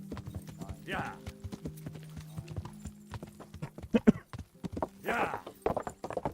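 Irregular clip-clop of horse hooves in the video game Kingdom Come: Deliverance, fairly close and moderately loud, with a couple of brief whinny-like bursts mixed in.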